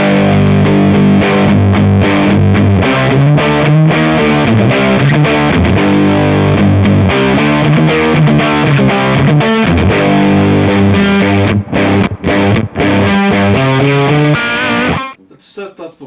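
Electric guitar played through a Kemper profiler's booster drive effect, a loud, thick distorted riff of repeated chugging chords that rings out and cuts off near the end.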